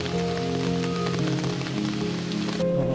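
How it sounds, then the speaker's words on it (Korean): Steady rain patters on surfaces close by on a forest trail in Seoraksan mountains, a continuous wash of drops mixed with a low hum, with no voices. "설악산만 오면 비가 오네요."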